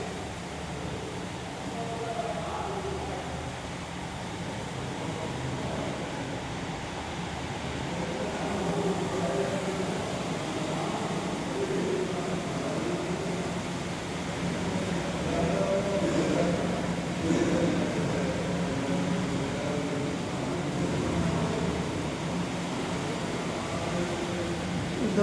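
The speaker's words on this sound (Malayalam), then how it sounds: "മഴ പെയ്യുന്നു. നല്ല മഴയാണ്." Heavy rain pours in a constant, dense wash of noise that swells slightly midway, with faint voices occasionally audible beneath it.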